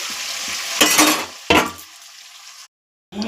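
Paneer cubes frying in hot oil in a kadai, a loud steady sizzle broken by two sharp stirring clatters, then a quieter hiss that cuts to silence before sizzling resumes at the end.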